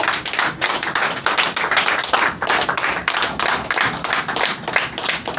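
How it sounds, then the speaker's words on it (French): A church congregation claps their hands together in praise, a loud, dense, uneven patter of many palms striking close by, continuing steadily without talk. "Et faut applaudir à Dieu."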